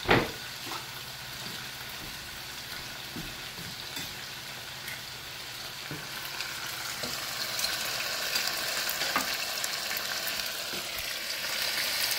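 Steak pieces and vegetables stir-frying in a pan, giving a steady broadband sizzle with scattered clicks and scrapes of stirring, growing slightly louder toward the end, with no talking.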